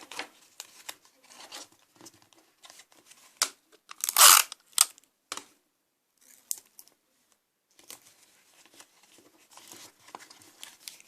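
Adhesive tape pulled and wrapped around a paper craft blade, heard as close crinkly rustles and short tearing bursts with one louder rip near the middle, then quieter scattered handling sounds.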